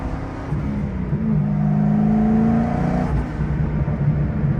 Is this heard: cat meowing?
no